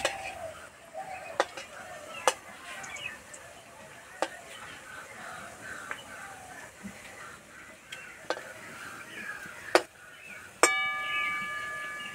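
Semolina (suji) pakoras fry in oil with a soft, steady sizzle, broken by sharp clicks and scrapes of a utensil against the pan, near and fairly quiet.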